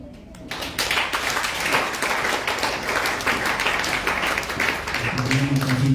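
A church congregation bursts into applause after a quiet start, a dense, sustained clapping that fills the room, with a voice rising near the end.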